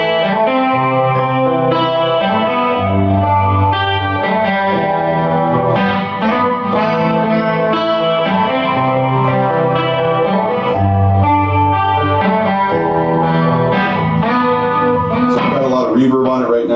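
Electric guitar played through digital rack effects with reverb and delay, loud distorted chords and melodic lines sustaining and echoing continuously without a break.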